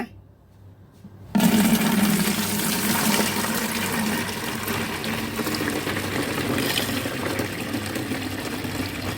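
Cola wine is poured into a fermentation tank after a quiet moment, then runs as a loud, steady gushing, splashing stream that lasts the rest of the time, with no speech.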